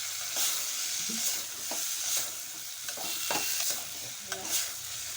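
Chopped brinjal cooking in oil in a pan gives a soft, steady sizzle, broken by a spoon clinking and scraping as it stirs every second or so.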